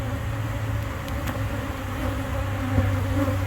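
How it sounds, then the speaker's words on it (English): A steady, dense insect buzz of many honeybees, agitated and continuous, with a low droning hum underneath and no voices. "Alright, bees are getting pretty mad."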